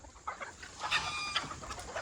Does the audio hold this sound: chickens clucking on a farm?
yes